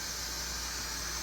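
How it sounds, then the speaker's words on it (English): A Carey pressure canner lets out steam in a short, steady, even hiss that continues unbroken throughout. "It's letting out steam."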